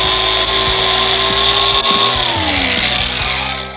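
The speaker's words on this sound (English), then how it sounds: "And we'll finish that up with the air grinder there." An air grinder cuts metal on a Harley-Davidson Sportster being chopped for a flat track conversion, a loud, continuous high whine that wavers and slowly drops in pitch as it bites into the workpiece.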